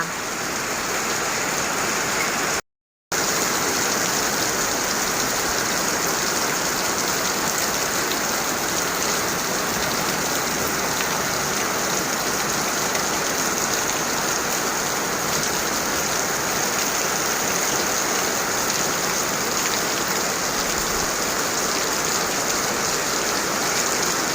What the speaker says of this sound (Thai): ดีใจฝนตกค่ะ